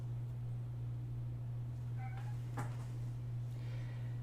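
A cat gives a faint meow partway through, with a couple of soft follow-up sounds, all over a steady low electrical hum.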